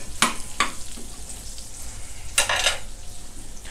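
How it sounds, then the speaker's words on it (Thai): Pork fat sizzles gently over low heat in a pan for Chinese-style shrimp with glass noodles, with two sharp bursts of stirring and scraping standing out from a soft, steady frying hiss. "ไฟเบาๆนะครับเจียวให้หอม"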